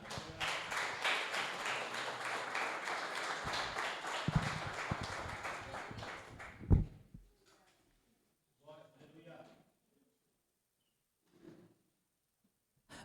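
A church congregation claps in praise during a service, a dense, rhythmic burst lasting about seven seconds that ends sharply, followed by quiet with brief scattered bits of talk.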